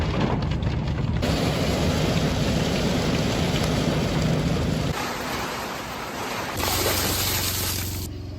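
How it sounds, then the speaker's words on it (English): Steady rain pours down over a rural homestead, a dense close hiss that drums on a surface, dips briefly near the end and then swells again, with no voices. "we are paused by the rain"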